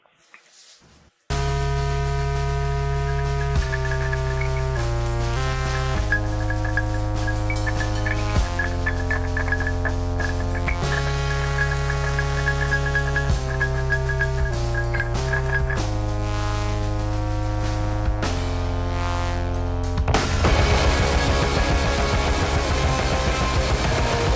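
A loud, distorted guitar riff plays alone, repeating chunky notes in a steady rhythm before ending in a noisier, crashing strum.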